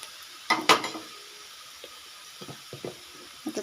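Vegetable curry with garlic frying in a pan, a low sizzle broken by sharp clinks and scrapes of a spoon against metal, close and fairly quiet, with no talking.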